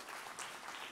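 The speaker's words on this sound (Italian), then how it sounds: "grazie per l'applauso spontaneo" Faint, brief applause from an audience at a motivational stage show in Milan, a soft continuous patter of many hands heard at a distance.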